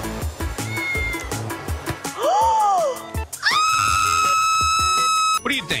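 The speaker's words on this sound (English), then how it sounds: "I hear a cat." A cat in a video game gives a rising, drawn-out meow and then a longer, higher wavering cry, close and clear, over a busy background with a person talking throughout.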